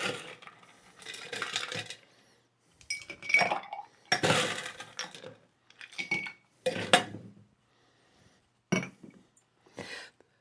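Ice rattles hard inside a cocktail shaker as a Hawaiian Sunset tiki cocktail is shaken, arriving in loud rhythmic bursts separated by short pauses.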